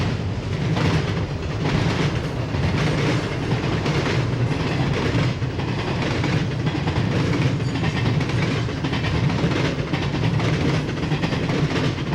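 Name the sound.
eastbound train passing on the Chicago line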